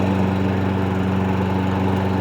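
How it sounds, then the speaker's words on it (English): A lawn mower engine runs steadily close by, a loud, constant droning hum with a low throbbing pulse and no breaks, with no talk over it. "Come see the nice lawnmower."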